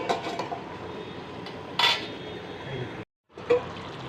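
Crab curry being stirred and cooked down in a pan, with scraping utensil scrapes and clatters over a soft sizzle, a louder knock partway and a short silent gap before stirring resumes; no talking.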